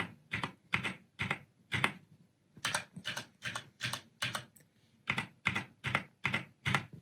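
Typing on a Keychron K6 mechanical keyboard with Cherry MX Brown switches, bursts of moderately loud, clacky keystrokes with brief pauses between runs, close by, no voices.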